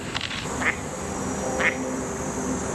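Mallard duck on a muddy island bank quacking twice, brief and at moderate distance, over steady outdoor wind and water noise.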